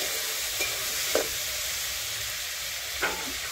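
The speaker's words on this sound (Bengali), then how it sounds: "পেঁয়াজ টমেটো লাল লাল করে ভাজা হয়ে গেছে, ওই সিদ্ধ করা দেশি আলু দিয়ে দিচ্ছি।" Boiled local potatoes go into a pan of onion and tomato already fried reddish, with a steady close sizzle broken by a few brief clatters of stirring and scraping.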